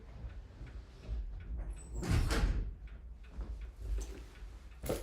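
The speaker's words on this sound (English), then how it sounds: "Somebody came to the door, so I had to go to the door for just 1 second." A door opening and closing indoors, a faint rattling slide and thud with a louder clunk in the middle, followed by muffled knocks and shuffling.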